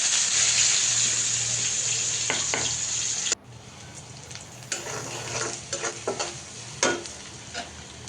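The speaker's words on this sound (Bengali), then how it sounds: "তো ডালটা বাগার দিব" Lentil dal being tempered with hot spices in a home kitchen: a steady bright sizzle that cuts off abruptly, followed by quieter frying crackle with stirring clinks and scrapes.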